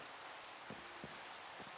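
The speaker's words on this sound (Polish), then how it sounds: "Kurde, ten deszcz pada, no." Steady rain falls in Minecraft as a dense, even hiss, broken by a few faint soft thuds.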